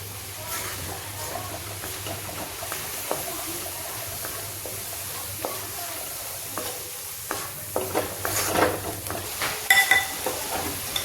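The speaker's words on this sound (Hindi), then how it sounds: "अब देखिए, इस मसाले को हम ठीक से पकाएंगे।" Spice masala stirred and sizzling in a pan without oil while making zero-oil kadhi, with steady frying hiss, scraping stirs and sharper clatters near the end, close and fairly loud.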